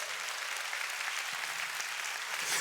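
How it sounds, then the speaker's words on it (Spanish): Applause from a church congregation during a Spanish-language sermon, a steady, moderately faint wash of many hands clapping throughout with no distinct voices on top. "denle un aplauso"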